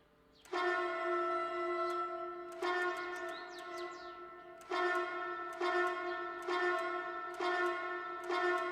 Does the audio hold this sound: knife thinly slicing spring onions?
no